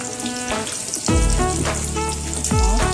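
A fish fillet frying in a pan gives a loud, steady, close sizzle and crackle throughout, with brief scrapes and knocks of the pan or utensil.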